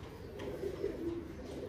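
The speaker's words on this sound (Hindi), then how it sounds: "ये देखें ये दोस्तों अलमारी वाला कबूतर है" A domestic pigeon kept for flying competitions coos softly and low, a short murmuring call close by over a steady background hum, with no talking.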